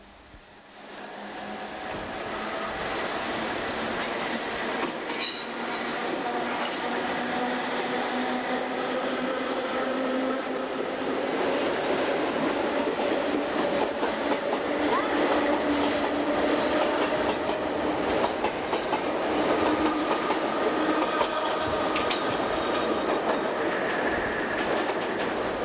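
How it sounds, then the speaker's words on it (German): An East Berlin S-Bahn special train runs through Lehrter Stadtbahnhof in Berlin, a steady loud rumble and rail clatter that builds in the first seconds and carries on for the whole stretch with no voices. "Hier der Sonderzug bei der Durchfahrt im Lehrter Stadtbahnhof."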